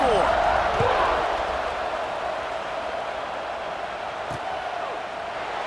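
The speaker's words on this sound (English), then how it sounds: "this crowd is buzzing after that last score" Stadium crowd in the College Football 26 video game, a steady broad roar of fans buzzing after a score, loud and continuous throughout with a few faint thuds.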